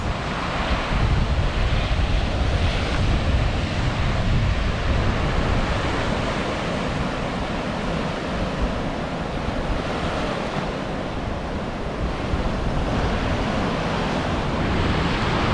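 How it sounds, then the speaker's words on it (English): Waves wash onto the beach at Shell Island near Panama City Beach on Florida's Emerald Coast, a constant loud surf roar heavily mixed with wind buffeting the microphone, with no voices. "So this is Shell Island next to Panama City Beach."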